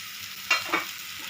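Grated sorakkai (bottle gourd) puttu fries in a pan, with a faint sizzle under two quick, close scraping stirs.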